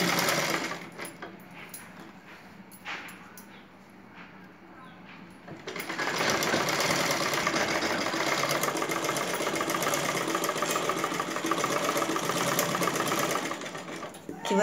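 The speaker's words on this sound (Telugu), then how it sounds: "ఈ విధంగా మనము కింది మీదకి కుట్టుకుందాము." Sewing machine stitching thread piping onto blouse fabric, starting with soft intermittent stitching and quieter handling sounds, then running steadily and loudly in a continuous whirring drone for the second half.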